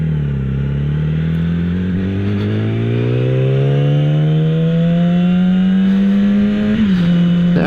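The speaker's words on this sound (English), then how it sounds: "give you guys a little test ride of the feel of this Yamaha R6" A 2016 Yamaha R6 sportbike with a K&N filter revs hard on a canyon test ride, its loud, close engine note climbing steadily in pitch, briefly dipping near the end, then holding, with no talk.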